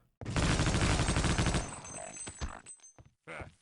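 Sustained automatic gunfire from an allied soldier in Half-Life: Opposing Force, loud and dense for over a second, then breaking into a few scattered shots and fading bursts.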